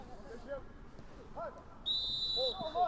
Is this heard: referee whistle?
yes